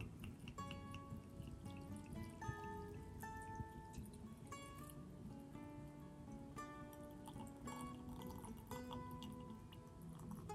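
Champagne vinegar poured over wild violets in a jar makes a quiet, close trickle and a run of bright, rising liquid-filling tones with little drips, steady for about ten seconds.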